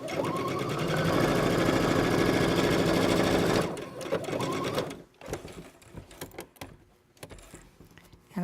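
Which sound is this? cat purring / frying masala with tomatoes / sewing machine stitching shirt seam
sewing machine stitching shirt seam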